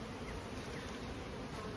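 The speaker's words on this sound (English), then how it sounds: "Oh, we got some bees in there." Bees crowd a winter nucleus hive cluster as fondant is fed, giving off a soft, steady, close buzzing drone with no voices.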